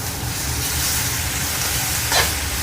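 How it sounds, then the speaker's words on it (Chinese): Chicken pieces pan-fry in a hot wok over a small ring of flame, giving a loud, continuous steamy sizzle and hiss with a brief sharper burst near the end. "先煎一下，先煎個1分鐘，讓這個水分揮發，同時也能讓這個雞肉收縮"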